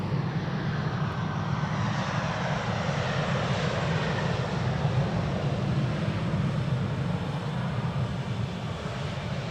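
An airliner landing at a wintry Amsterdam Schiphol Airport gives off a steady, loud, broad engine roar with a deep rumble, sustained without break and with no voices.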